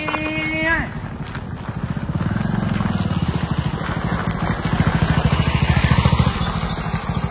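A motorbike carrying chair sellers rolls through Shiravli, a Konkan village, its engine a steady low putter that swells toward the end as it passes close by, after a brief voice at the start.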